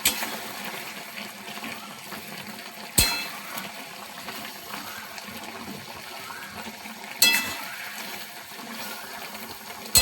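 Sugar syrup for sweet mango pickle simmers in a pot, a soft, steady bubbling hiss at close range, broken twice by sharp clatters.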